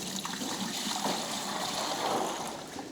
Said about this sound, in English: This is all the water that I'm adding to this dough as a bassinage.